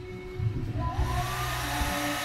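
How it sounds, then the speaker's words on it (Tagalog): A hair dryer runs on its low setting, a steady broadband whoosh with a faint rising whine that holds at a moderate level throughout. "Lagay muna natin sa mababang settings yung hair dryer natin"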